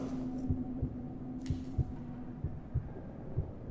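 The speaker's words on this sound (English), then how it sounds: "Where's my heart beating?" Heartbeat in the horror game Amnesia: The Bunker, a steady, muffled double-thump pulse repeating about every half second over a low ambient hum.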